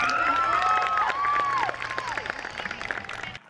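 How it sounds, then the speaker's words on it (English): An audience claps at the AAPI Montclair Lantern Festival for Justice and Remembrance, with a gliding, sustained tone riding over the first half before the clapping thins into scattered, fading claps. "Let's give her another round of applause."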